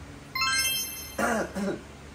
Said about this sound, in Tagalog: Parang dalawa tayo inuubo.